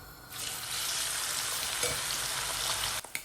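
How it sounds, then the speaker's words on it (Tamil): Marinated fish fries in a pan of oil for a Sri Lankan fish sambol, giving a loud, steady, close sizzle with a few clatters near the end. "பிரட்டி வச்ச மீனை போட்டு பொரிப்போம்."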